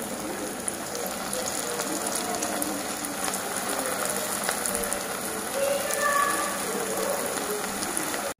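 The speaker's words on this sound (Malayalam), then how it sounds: "ഇനി നമുക്ക് നല്ല ചൂടായ എണ്ണയിലേക്കിട്ട് ഓരോന്നും ഫ്രൈ ചെയ്തെടുക്കാം കേട്ടോ" Vermicelli-coated snacks fry in hot oil with a steady, close sizzle and fine crackling that runs almost unchanged throughout before cutting off abruptly.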